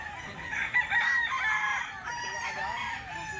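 A Kalisayin hatch gray gamefowl rooster lets out a long, hoarse crow close by, followed by some softer clucking and trailing calls, loud against a quiet yard.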